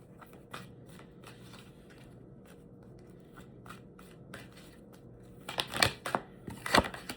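Tarot cards shuffled by hand, soft riffling and sliding through most of the stretch, then two louder, sharper bursts of shuffling near the end, close and quiet with no talking.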